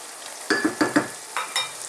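Onions frying in a pan with a few bursts of stirring and scraping, close and fairly quiet, the steady sizzle underneath broken by several short clattering strokes.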